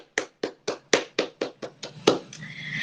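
A classroom of students claps hands together in unison, about nine sharp, evenly spaced claps in a steady rhythm before the sound trails into room noise.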